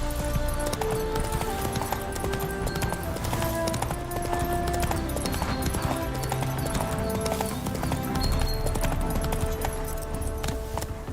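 Roach the horse gallops in The Witcher 3 with a continuous rhythmic drumming of hooves, heard alongside game music and ambient sound, with brief speech.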